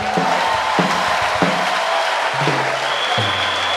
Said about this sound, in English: Give Jesus another clap offering.